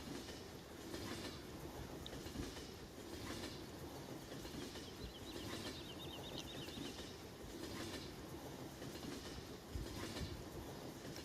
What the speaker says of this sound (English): there's the train coming from that direction. So chassis system and some, looks like some grain cars.